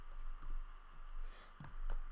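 Keys clatter on a computer keyboard as a Shift and slash combination is pressed, a few soft clicks over a steady background hum.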